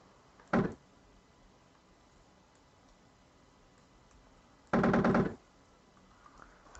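Two bursts of rapid fire from the AH-64D Apache helicopter gun in ARMA 2, a short one followed by a longer, louder burst, each sharp and dense against quiet background hum.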